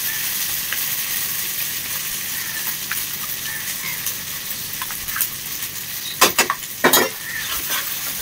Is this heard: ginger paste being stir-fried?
yes